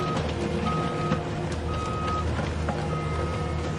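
Toy crane truck pulling muddy toy cars free, giving repeated electronic reversing beeps in a steady on-off rhythm over a constant mechanical hum, fairly loud and near.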